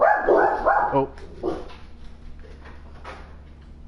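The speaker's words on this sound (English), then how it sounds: "Excuse the dogs." Dogs bark in a quick burst of several loud barks nearby, followed by fainter scattered yips, with a brief spoken exclamation over them.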